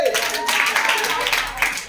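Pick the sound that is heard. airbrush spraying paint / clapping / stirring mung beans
clapping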